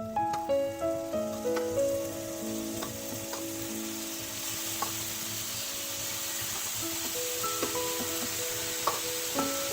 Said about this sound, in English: Once the tawa is hot, keep the flame on low and start adding the paneer pieces.